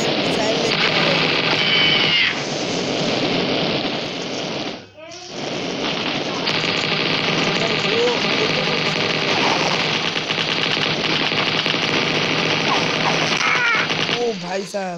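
Mini Militia mobile game combat with near-continuous rapid gunfire and blasts from an AK-style weapon and missiles, dense and loud for the whole stretch apart from a brief lull in the middle.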